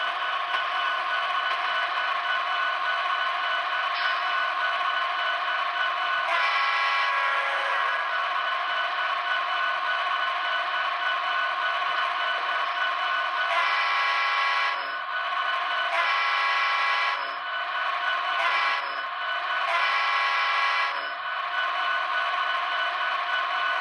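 A steady, droning diesel locomotive engine hum from a BLI SD70ACe model train with sound, horn-like tones sounding in several bursts, continuous and fairly close.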